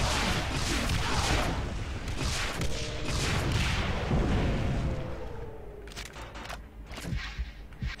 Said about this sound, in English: I can just switch to the heavy hitting rocket launcher